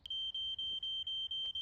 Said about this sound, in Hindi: ये किसका स्मोक अलार्म बज रहा है?